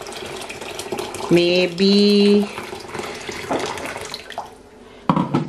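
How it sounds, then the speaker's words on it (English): Hot water is poured into a medium-sized pot of prawns to make stock for Thai lemongrass soup. A splashing, running pour goes on with a brief whistling tone partway through, and a voice speaks briefly. "I'm adding my all prawns in a medium size pot. Add hot water."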